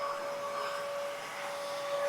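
A vacuum cleaner runs steadily indoors during a hybrid inverter installation, a constant whining drone with a sharp high tone held throughout.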